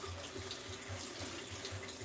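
A kitchen tap runs steadily into a sink while a home cook prepares cassava for fufu and pepper soup, giving a faint, even splashing flow with a soft rhythmic pulse and no voices.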